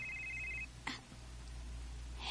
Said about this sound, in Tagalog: Oh, may nanawag.